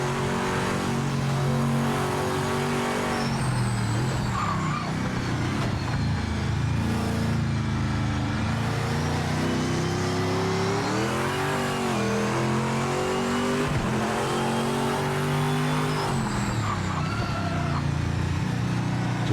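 A race car in the video game Project Motor Racing drives steadily on track, its engine note loud and continuous as it revs up and down through gear changes, with no break over the whole stretch.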